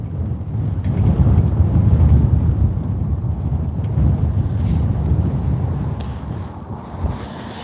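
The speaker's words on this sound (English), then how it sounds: "Well, that is the wind that we are dealing with right now." Strong wind buffets the microphone outdoors on a bass fishing trip, a loud continuous low roar with gusts swelling and easing over several seconds, no voices.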